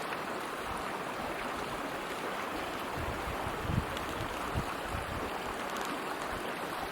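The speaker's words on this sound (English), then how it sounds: "Now you can see the little waterfall." A small waterfall fed by snow melt rushes steadily in a Colorado forest, giving an even mid-level watery hiss and splash with a couple of faint thumps and no talk.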